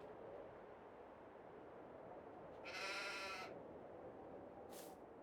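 A sheep in the Farming Simulator 22 video game bleats once, a short nasal cry over a steady background hiss of ambient game noise, followed by a brief faint sound near the end.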